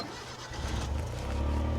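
A JDM import car at a car meet cranks and starts, then revs up in a rising, loud, close engine drone.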